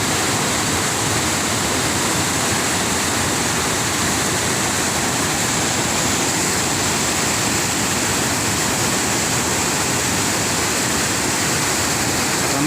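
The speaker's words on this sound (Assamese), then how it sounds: "খতৰনাক ঢৌ উঠিছে।" Rushing water and churning waves at Parshuram Kund in Arunachal Pradesh, a loud, dense, unbroken roar of flowing river water filling the whole clip without talk.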